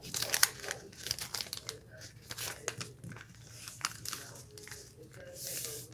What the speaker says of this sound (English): Now I'm just going to fold all of the corners in.